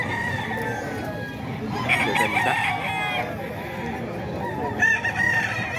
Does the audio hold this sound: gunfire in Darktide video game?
no